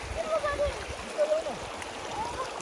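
Shallow rocky stream in the hills on the way to Kulekhani and Markhu, Nepal, flowing steadily as people wade across slippery stones; soft continuous gurgling and splashing sits under nearby talking.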